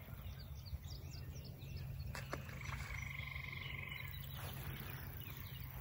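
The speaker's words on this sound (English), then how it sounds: "you should hear all the frogs over here" A dense chorus of frogs croaking steadily from a patch of woods near a pond, layered with trilling calls and a few faint bird chirps, fairly distant and continuous.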